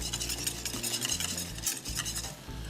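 A spoon stirs butterscotch chips into a bubbling butterscotch cream sauce in a pot, giving close, rhythmic scraping strokes over a steady simmering sizzle.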